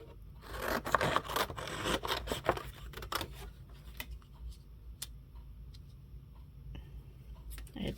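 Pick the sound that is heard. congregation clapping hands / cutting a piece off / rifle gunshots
cutting a piece off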